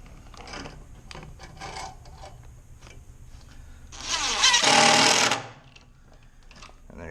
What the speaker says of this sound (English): let's just put some nice long screws straight through